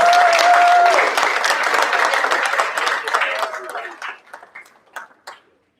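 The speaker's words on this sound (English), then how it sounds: "Big round of applause." Applause for an award recipient at a special board meeting, a dense burst of clapping from the gathered audience that starts loud and thins out over several seconds into scattered last claps.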